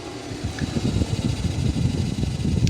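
A Renault car's engine cooling fan runs at high speed, giving a steady, loud whirring roar with a dense rumble that holds evenly throughout, with no voices over it.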